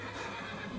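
Horse neighing in the video game Skyrim, a short, breathy whinny lasting under a second, heard alone at moderate loudness.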